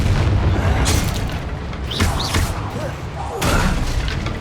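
A Confringo fire spell explodes in the Hogwarts Legacy video game, with loud booming bursts and rumbling blasts layered over continuous game noise, several swelling impacts over a few seconds.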